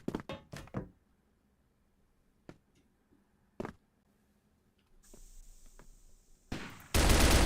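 AK rifle fire in a competitive video game match, with sharp bursts and isolated shots at uneven intervals between quiet gaps, ending in a louder dense stretch of noise.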